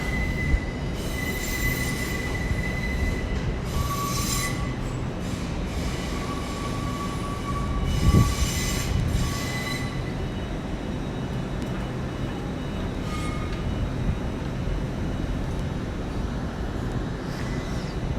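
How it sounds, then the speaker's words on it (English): An IET train arriving at London Paddington station, with loud high-pitched wheel squeals recurring over a steady rumble of rolling stock, heard close and without talk. "We look to have another IET coming down as well in the far distance."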